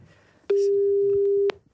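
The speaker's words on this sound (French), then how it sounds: "Ça va sonner chez Mme Emono." A single steady telephone tone on a French radio call-in show sounds for about one second, loud and clean, with faint room noise before and after.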